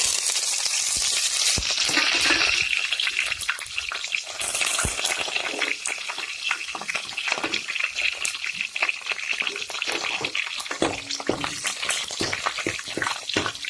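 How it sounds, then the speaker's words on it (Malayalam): Chopped chilies, dried red chilies and curry leaves frying in hot oil make a loud, steady crackling sizzle with scattered pops and a few stirring scrapes, continuing without a break. "ഇതിലേക്ക് നമ്മൾ അരിഞ്ഞു വെച്ച മുളകും വറ്റൽമുളകും കരിവേപ്പിലയും ചേർത്ത് കൊടുക്കാം"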